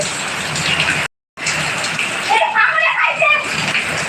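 Heavy morning rain with strong gusting wind in Gazipur, lashing banana trees; a dense, steady roar of falling water broken by a brief cut, with wind swirling through foliage and voices faintly underneath.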